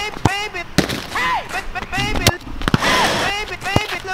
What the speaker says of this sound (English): Turns out extra strong duct tape is no match for the football.